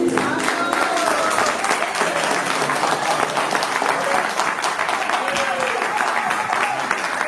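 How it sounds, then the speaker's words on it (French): Loud, sustained audience applause after a stage performance at a tribute evening, thick and even throughout with crowd noise and a voice mixed into the clapping. "on applaudit très très fort mademoiselle Jessica Rache et son frère"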